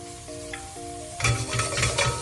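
Pancetta dropped into a pan of hot olive oil with shallots, starting a loud, steady sizzle that jumps up midway as the meat hits the oil, close and continuous.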